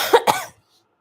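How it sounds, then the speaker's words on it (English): Two quick coughs in close succession, near and fairly loud, followed by silence. "Sorry for the inconvenience due to my cough."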